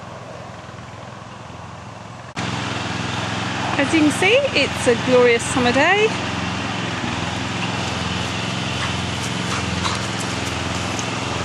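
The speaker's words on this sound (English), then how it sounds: "that traditional noise of somebody mowing their garden" A steady engine drone of a lawn mower mowing a garden nearby throughout, with someone talking over it partway through.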